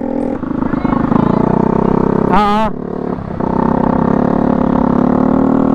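A lowered second-hand Yamaha Mio Sporty scooter idles with a loud, steady exhaust drone in a mall parking area in Bacoor, a brief warbling tone cutting through midway and talk mixed in.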